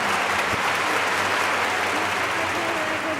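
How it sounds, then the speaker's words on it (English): A crowd at a sprint car race in Ventura, California claps steadily and densely throughout, loud and sustained without a break. "Nice round of applause for your heat race winner"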